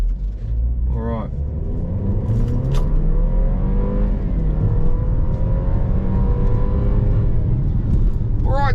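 A 2015 BMW X3's 2-litre petrol engine accelerates with a steady, loud rumbling drone that rises in pitch across the run, while people talk over it inside the cabin.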